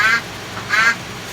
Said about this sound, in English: You can hear Juliet in the background there